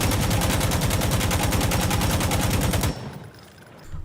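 An AKM rifle with a foregrip and compensator fires a long, steady full-auto burst in Insurgency Sandstorm, the rapid, evenly spaced shots loud and close for about three seconds before cutting off into a faint tail.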